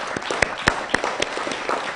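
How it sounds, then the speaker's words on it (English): A small audience at a primary health care document launch claps briefly, a short burst of scattered, distinct hand claps fairly close by. "Can we clap for them?"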